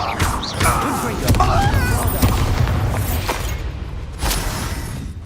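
Confringo fire-spell blasts go off in Hogwarts Legacy combat: repeated booming impacts and crackling bursts fill a dense, noisy battle, with voices mixed in.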